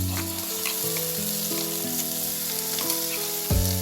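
Gravy poured into hot oil with whole spices and cumin for egg curry, hissing in a steady loud sizzle, with a brief stir or clatter of the pan near the end and music playing underneath.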